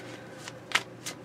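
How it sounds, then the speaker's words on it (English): A tarot card deck being shuffled by hand, three or four soft papery riffling swishes in quick succession, close and moderately quiet with no talking. "I'm going to shuffle it before I flip through it"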